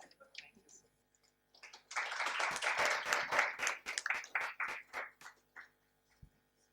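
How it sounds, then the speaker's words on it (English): Audience applause for conference panelists, a burst of scattered clapping that builds quickly, holds for a few seconds, then thins out into a few last claps, moderately faint and with no talk over it. "Ladies and gentlemen, please give a big round of applause to them."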